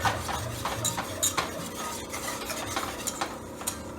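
A roux for Caribbean seafood gumbo is stirred in a pot as it darkens, with a quick, continuous scraping and clinking of a utensil against metal over a faint sizzle, close and without talk.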